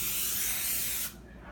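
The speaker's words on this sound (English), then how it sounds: "I'm going to start by just spraying the inside of this cast iron pan" Cooking spray hissing into a cast iron pan, one continuous close burst of about a second that cuts off sharply, leaving quiet room tone.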